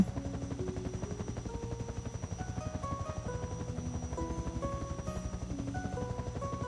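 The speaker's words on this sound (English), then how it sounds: "Isn't this just a super cute helicopter?" Small helicopter flying in the Second Life video game, a steady rapid rotor chop throbbing continuously at low volume under a repeating melodic tune of stepped notes.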